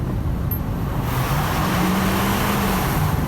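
A 2019 GMC Duramax truck accelerates hard under a steady engine roar that rises in pitch and stays loud and close throughout, with no voices.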